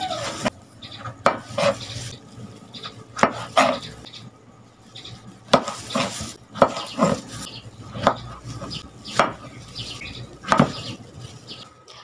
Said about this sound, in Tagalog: At sunod naman po natin hiwain na yung kamatis na 3 piraso.